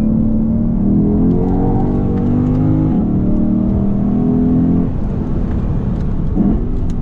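A Lexus IS 500 F Sport Performance engine drones and revs continuously, pitch rising and falling as it works through a turn, loud and close with steady mechanical whir.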